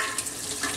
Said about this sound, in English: I'm going to use my strainer to drain the water and see how it is.